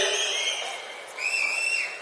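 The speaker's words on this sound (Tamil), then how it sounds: "எதுக்கு விசில் இதெல்லாம் சிலபஸ்ல இருக்கா" A crowd at a political speech event lets out shrill, sustained whistles that rise and waver, fairly loud and continuous for about two seconds, with no talk.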